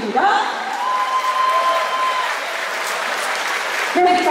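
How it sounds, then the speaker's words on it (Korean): Audience applause at a football award ceremony marking a player's 200th league appearance, a dense steady patter of clapping filling the room for several seconds, with a faint tone and murmur underneath. "다시 한번 더 추천 박수"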